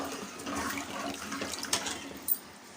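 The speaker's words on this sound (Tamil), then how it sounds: "தண்ணி நல்லா கொதி வருது" Salted water comes to a boil in a cooking pot while a peppercorn, cumin and dried-chili rice tiffin is made, giving a steady, fairly faint bubbling rush with a couple of sharper pops near the end and no talking.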